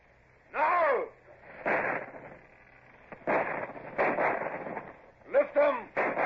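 Ship's guns fire in a 1952 BBC radio drama, several sharp booming blasts with rumbling tails spaced unevenly across the scene, heard alongside shouted voices.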